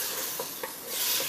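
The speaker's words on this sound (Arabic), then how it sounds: "فوالا هاي بدات تتقلى" A spoon stirs food frying in a pan on a home cooking show, with a steady sizzle and a few soft scraping strokes, heard close and alone.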